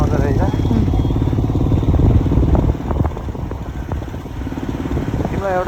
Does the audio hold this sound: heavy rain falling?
no